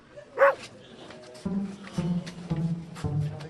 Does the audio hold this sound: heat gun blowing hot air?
no